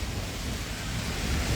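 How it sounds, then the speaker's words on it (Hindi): Steady night rain pours in a dense, even hiss with a low rumbling undertone, close and continuous with no voices. "यहाँ पर भी बारिश हो रही है अभी रात में"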